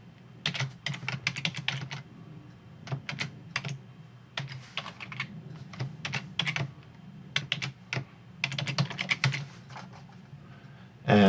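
Typing on a computer keyboard while entering network credentials into a text document, with bursts of quick key clicks separated by short pauses, close and fairly quiet, with no voices.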